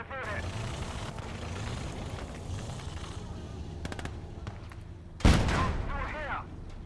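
Dual MG34 machine guns on a Panzer III in a battle video game, heard as rapid bursts of gunfire in a noisy fight, with a loud blast near the end and someone talking throughout.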